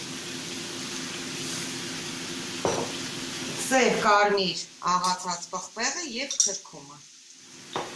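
Eggplant filling with ground black and red pepper and turmeric fries in a pan, a steady close hiss of sizzling that continues faintly while a person talks over it.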